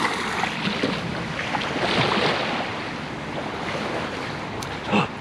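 Waves washing onto a tiny beach, a loud, continuous hiss of surf mixed with wind buffeting the microphone, swelling at intervals, with a sharper splash near the end.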